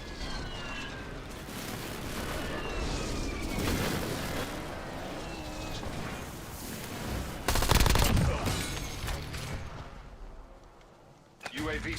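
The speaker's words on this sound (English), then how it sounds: "Hostile airstrike incoming." Dense, continuous gunfire and explosions from an incoming hostile airstrike rumble throughout a video game battle, with a heavy blast burst near the end and radio-style voices speaking over the din.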